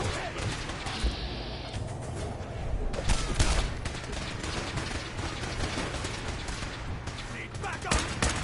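Sustained gunfire in the video game Fallout 4, dense bursts and rattling shots layered over a busy battle mix, with voices shouting through the fight.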